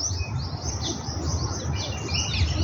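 A bird chirps near its nest, giving faint high scattered tweets over a low background hum.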